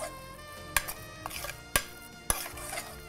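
A spoon clinks and scrapes through thick pongal in a metal cooking pot, three sharp knocks against the rim standing out over a steady low bubbling and faint kitchen background.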